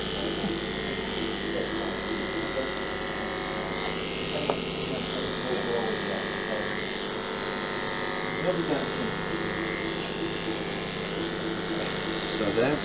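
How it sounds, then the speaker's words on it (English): Electric clippers shave an animal's fur before surgery, a steady close mechanical buzz running continuously, with small scraping variations as the blades move across the skin. "Once I'm done shaving here."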